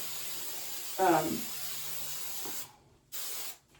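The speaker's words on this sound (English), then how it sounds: "I probably shouldn't be using aerosol, but I am." An aerosol can sprays in steady hissing bursts, a long continuous spray, then after a brief pause a second shorter one, close and fairly loud, with a voice briefly heard early on.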